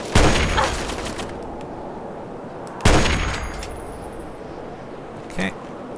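Gunfire in the video game Fallout 3: two loud, close sharp shots about three seconds apart, each trailing off in a ringing decay, followed by a fainter metallic clink near the end.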